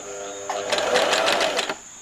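A sewing machine back-stitches and then sews along fabric strips for a crib cover in one quick, rapid mechanical chatter lasting just over a second. The burst rises from a quiet room and stops abruptly.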